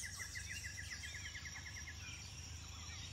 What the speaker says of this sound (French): Et tous ces oiseaux qui chantent